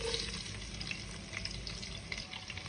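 Chopped onions frying in oil in a frying pan: a dense, even sizzle close up, steady and unbroken with no voices.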